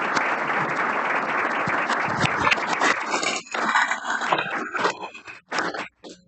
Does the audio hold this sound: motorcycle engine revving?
no